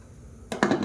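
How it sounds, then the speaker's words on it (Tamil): A pressure cooker lid being closed over soaked rice and dal for tomato pongal, giving two or three close metallic clunks and clatters after a quiet moment. "இது நல்லா கலந்து விட்டுட்டு குக்கரை மூடி வச்சிடலாம்"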